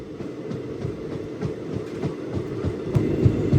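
A Danapur to SMVT Bangalore special train runs steadily, heard from inside a coach, with a low rumble and rhythmic clickety-clack of wheels over rail joints that grows slightly louder toward the end.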